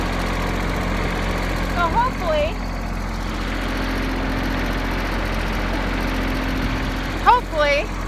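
A snow blower engine idles with a steady, low mechanical hum throughout, joined by a couple of short higher chirping sounds and a brief spoken word.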